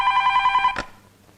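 A telephone ringing: a steady electronic trill, close and clear, cut off abruptly by a click as it is picked up, then quiet.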